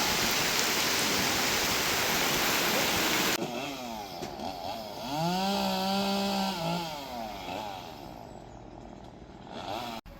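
Heavy storm rain and wind in the Ardèche roar as a loud, dense hiss for about three seconds, then the scene cuts to a quieter moment with a wavering tonal drone and light background noise.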